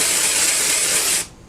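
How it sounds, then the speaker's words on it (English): IGK dry shampoo sprayed from an aerosol can onto hair: one steady, close, bright hiss held for over a second before cutting off abruptly. "I always move the can as I'm spraying."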